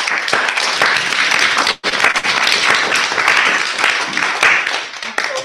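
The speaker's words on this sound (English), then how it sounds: "I think you can clap for all of these" Audience members clap together in a room, a dense, fairly loud patter of many hands that breaks off for an instant and then resumes evenly to the end.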